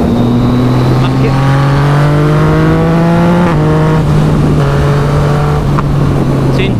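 A Yamaha MT-09 motorcycle with its dB killer removed accelerates hard, its exhaust note climbing through gears in loud rising sweeps with brief shifts and crackling pops, while a rider's excited voice speaks over it.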